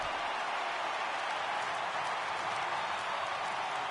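A large baseball crowd of over 29,000 rises to its feet, a steady, continuous wash of applause and cheering that holds evenly throughout without letting up.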